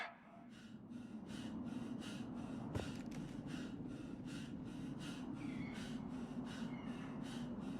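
Heavy, rhythmic breathing from a character in the video game Mass Effect 3, inside the Rachni tunnels: quick repeated breaths roughly twice a second over a low, constant ambient hum, with one brief sharp thud midway.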